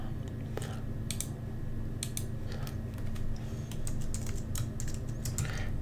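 Someone types a folder name on a computer keyboard, producing quick bursts of close key clicks with short pauses between them over a low background hum.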